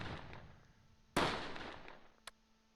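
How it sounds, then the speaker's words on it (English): A single sharp gunshot cracks out in the Close Combat WWII tactical game during the Allied fight at Tourville, 28 June 1944, then a fainter, briefer shot follows about a second later against low background noise. "Shots from down here."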